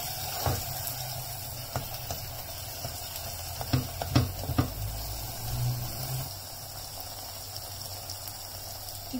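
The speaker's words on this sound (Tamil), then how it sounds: "இந்த மாதிரி நல்லா வதக்கிக்கணும்." Tomato masala for Chettinad mushroom kuzhambu sizzles and bubbles as it sautés in a pan. A steady sputtering hiss runs throughout, with occasional soft spoon scrapes and taps close by.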